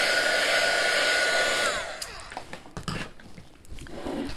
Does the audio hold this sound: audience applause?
no